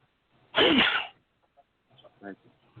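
A single loud, abrupt sneeze close by, followed by a faint murmured voice.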